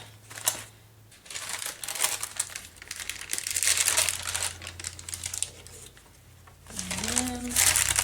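Tissue paper crinkles and rustles in bursts while being added to handmade craft pages, close and fairly loud, with short pauses between handlings and a faint hum underneath.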